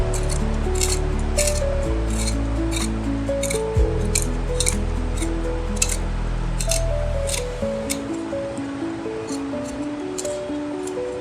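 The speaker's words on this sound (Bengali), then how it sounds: "প্রথমে আমি আপনাদের দেখিয়ে দিচ্ছি এই গাটি কচুগুলো কত সহজে ছুলে নেওয়া যায়" Taro corms are peeled with a vegetable peeler, giving a series of short, crisp scraping strokes in quick, uneven succession over steady background music.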